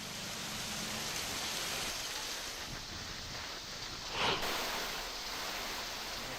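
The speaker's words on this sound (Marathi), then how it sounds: "सकाळपासूनच हिंगोली जिल्ह्यातील सर्वच भागात पावसाने हजेरी लावली आहे" Steady rain falling in Hingoli district, a dense, even hiss throughout with a brief louder swish near the end, no voices.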